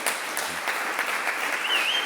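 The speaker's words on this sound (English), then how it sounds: "Give them applause." Audience applause at a biodiversity conference: a steady, continuous patter of many hands clapping in a hall, moderately loud and unbroken, with no talking over it.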